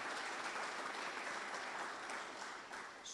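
Applause for award recipients at a Camp Lejeune awards dinner, a dense continuous wash of clapping held steady from start to finish with only a slight dip near the end.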